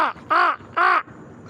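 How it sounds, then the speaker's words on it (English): A crow near a parking deck gives two loud, harsh caws in quick succession, close by, preceded by a shorter clipped call, with no talk. "Oh, I heard one of my crow buddies back here behind me."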